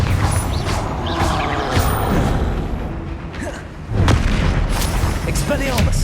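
A Confringo spell blast goes off in Hogwarts Legacy combat, a loud booming burst followed by repeated crashing impacts and rumbling, layered with other spell effects and a voice speaking over the fight.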